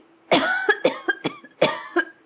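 A person coughs repeatedly in a short, close burst of harsh, raspy coughs, several in quick succession.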